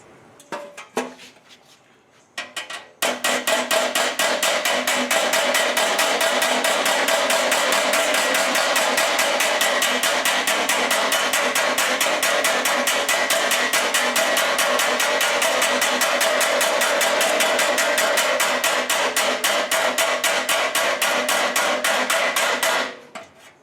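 Rapid, steady hammer blows ring out on sheet metal being shaped for a 1933 Ford body, about twenty seconds of continuous loud clatter after a brief quiet start.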